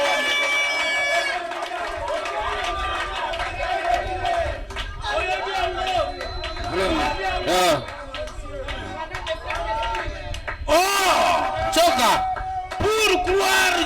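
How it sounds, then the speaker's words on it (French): Church congregation at a Sunday service shouting, whooping and cheering together in a loud, sustained swell of acclaim, with a voice calling out over the crowd. "Acclamez pour la gloire de Dieu"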